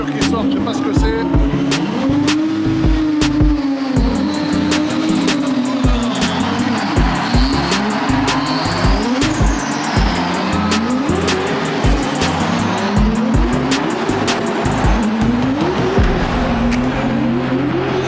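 Cars roar out one after another at the GP Explorer racing event, engines revving and rising in repeated surges with sharp tire squeals and skids, loud and close, while people talk over the noise.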